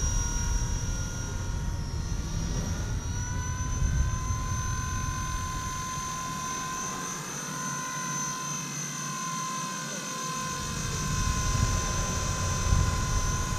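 A Blade 230 RC helicopter flies nearby, its rotor and motor producing a continuous whining buzz with steady tones and slight pitch shifts as it maneuvers, holding a constant level throughout.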